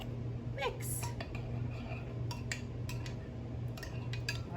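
A homemade vinaigrette is stirred in a bowl, with a quiet run of light clinks and scrapes from a utensil against the bowl over a low steady hum, and no voice heard.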